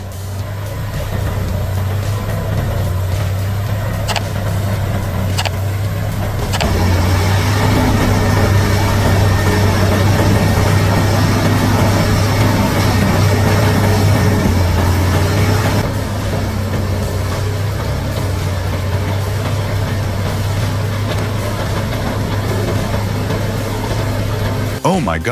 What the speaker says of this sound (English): The CBI 5400 BT wood grinder, equipped with sharp cutting blades, harnesses the power of a massive diesel engine